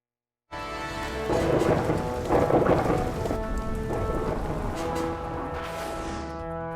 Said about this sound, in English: this is footage we received from a local station in Honduras showing us the rain